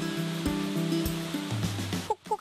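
Jein Waterfall, a volcanic cascade cutting through basalt columnar joints in a forest, rushes steadily in a broad continuous wash, mixed beneath prominent music.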